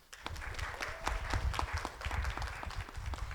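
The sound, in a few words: audience applause welcoming speaker Katie Mitchell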